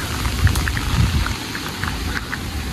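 Heavy rain pours steadily on a New York street, a dense continuous hiss with scattered louder drops and splashes, fairly close and with no talking.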